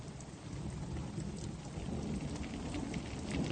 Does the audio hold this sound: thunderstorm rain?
yes